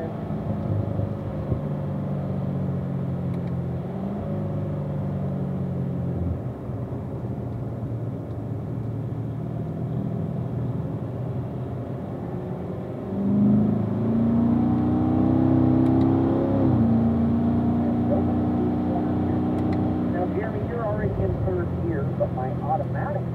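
A Corvette engine pulls through gears on a race track, its steady drone climbing in pitch as it accelerates, heard from inside the car beneath continuous talking from a driving instructor.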